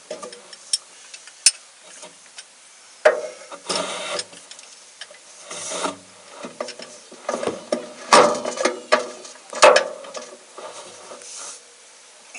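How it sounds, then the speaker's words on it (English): A breaker bar works loose a Loctite-coated bed bolt on a Chevy 1500 pickup truck, giving irregular ratcheting clicks and metallic creaks in uneven bursts at close range, with no talking. "You gotta use a breaker bar."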